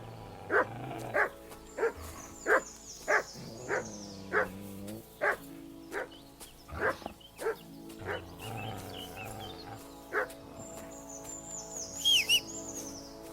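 Dog barking in Kingdom Come: Deliverance II, a steady run of about a dozen sharp, evenly spaced barks, fairly close and loud, with birds chirping in the background and no talk.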